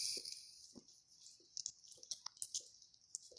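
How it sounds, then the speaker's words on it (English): A dog licks its feet in the background, making faint, irregular wet smacking and clicking sounds in a quiet room. "You might hear my dog licking his feet in the background"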